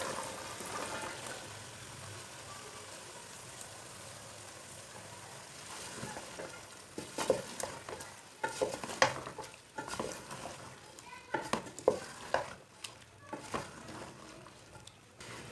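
A spoon stirs cabbage into fried masala in a pan, with a faint sizzle at first, then scattered scraping and clattering strokes growing more frequent toward the end.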